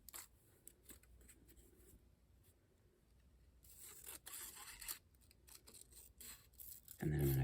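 Scissors snip around a folded paper card in a quiet craft room, soft intermittent cutting and rustling sounds close by, with a louder handling noise at the end.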